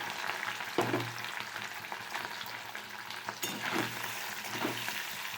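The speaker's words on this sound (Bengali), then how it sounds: "পনিরটা এবার ভেজে নেব।" Paneer fries in a pan with a steady, close sizzle throughout, broken by occasional stirring scrapes and light clinks of a utensil.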